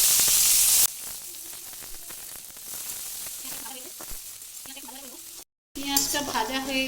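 Chopped onions fry in a pan with whole cardamom, cumin and black cumin, a steady broadband sizzle running throughout, briefly cut off near the end, while a person talks intermittently over it.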